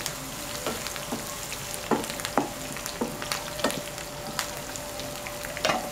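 A whole green chilli fries in hot oil in a small tempering pan for daal maash, giving a steady close sizzle broken by several sharp pops and crackles spread through the stretch.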